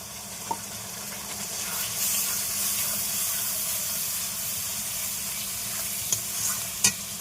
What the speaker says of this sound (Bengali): ভালো করে নাড়িয়ে বাজিয়ে নেব।